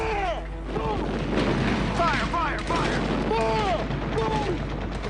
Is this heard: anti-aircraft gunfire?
yes